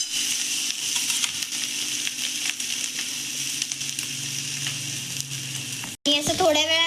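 Fenugreek thecha mixed in a frying pan gives a steady, dense sizzle of frying with small stirring clinks throughout, close up, and a short voice after a brief pause at the end.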